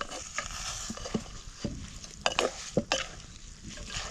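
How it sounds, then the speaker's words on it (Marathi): Mixed vegetable dish with tamarind and sesame seeds cooking in a pan for a Sankranti bhogi meal, giving a soft steady sizzle with scattered stirring scrapes and a few sharper utensil clicks, close and moderately quiet. "आता ही चांगली भाजी शिजवून घ्यायची आपल्याला"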